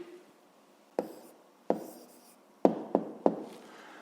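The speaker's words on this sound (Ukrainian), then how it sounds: "Записуємо тоді відповідь." A pen writes an answer by hand on paper during a fifth-grade maths exercise, giving about six faint, separate taps and short scratches in an uneven rhythm over a quiet background.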